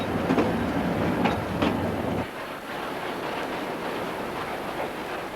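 A train runs on rails along a high gorge route, with a steady rumbling roll and clattering wheels, louder in the first couple of seconds and then easing into a softer continuous rush.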